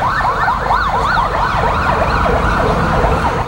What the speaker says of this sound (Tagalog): Ang mga ambulansya at police mobile pabalik-balik sa pagresponde sa binombang simbahan.